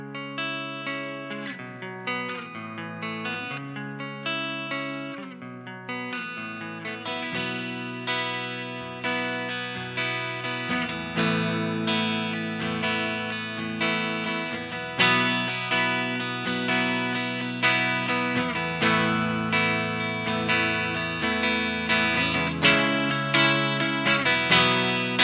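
A clean electric guitar played through an Orange Micro Dark amp with light amp gain and hall reverb from a Hall of Fame pedal rings out in a continuous melodic line of picked notes, building gradually in loudness.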